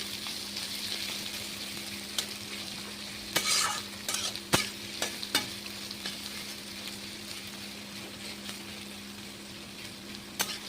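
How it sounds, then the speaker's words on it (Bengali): Onions with whole garlic and garam masala frying in a pan for a chicken bhuna, a steady soft sizzle with a few sharp scraping stir strokes, close and moderately quiet throughout. "এর মধ্যেই এটাকে খুব ভালো করে ভাজতে হবে।"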